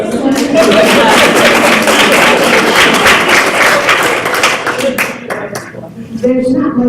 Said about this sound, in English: please, you don't have to clap